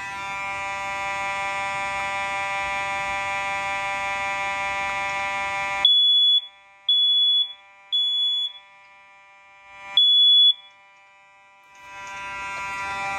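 A smoke detector under test blares a continuous loud, harsh electronic tone. The tone then breaks into several short chirps separated by silence before the alarm resumes. No voices are heard.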